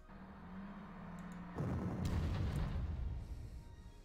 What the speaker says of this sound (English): That's an artillery, isn't it?